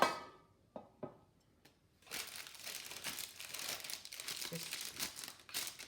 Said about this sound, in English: I always line my tins, even though they're non-stick. I'm happier with that. Is I take the lining out